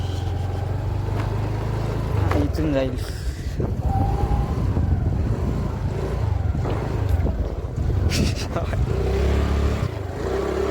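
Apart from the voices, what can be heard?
car driving over uneven riverside ground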